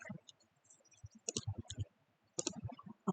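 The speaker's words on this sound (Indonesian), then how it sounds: "Setelah diupdate, kita klik update." Mouse clicks on a software update button in a desktop application, a few short sharp clicks spaced apart in a quiet room, close and fairly faint, with no talking.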